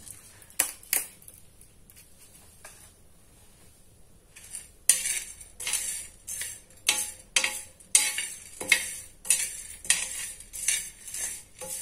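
Fenugreek seeds and cumin dry roasting in a pan for sambar masala, a quiet start followed by rhythmic metallic scraping and clinking of a spoon against the pan, close up.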